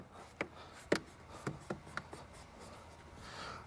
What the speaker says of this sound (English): You'll hear it click into place.